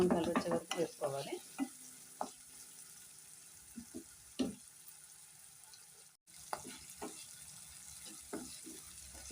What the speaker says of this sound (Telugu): ఉల్లిపాయ ముక్కలు అయితే ఆల్మోస్ట్ వేగిపోయాయి ఫ్రెండ్స్